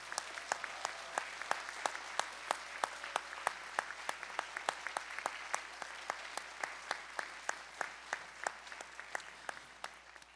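A church congregation claps at a discipleship training completion ceremony as certificates are handed out. The sharp claps come distant and fairly quiet, at a slow, regular beat, each one distinct against a low hum.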